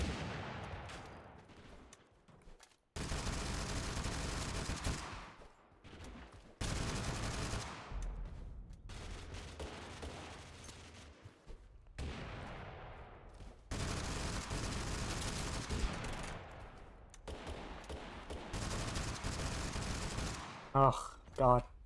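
Bursts of heavy gunfire in Totally Accurate Battlegrounds come in long, loud volleys separated by short silences, with a few sharp single shots near the end.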